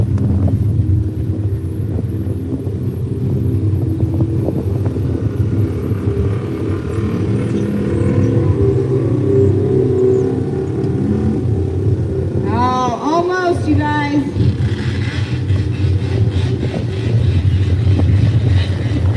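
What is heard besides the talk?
small tire UTV engine revving at Hay Days race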